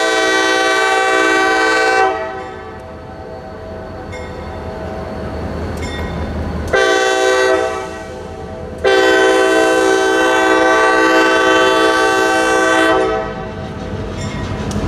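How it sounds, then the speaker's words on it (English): CSX freight train leaving town sounds three loud horn blasts, two shorter ones and a long final one, over a steady rolling rumble of the cars passing close by. "Here's CSX leaving town"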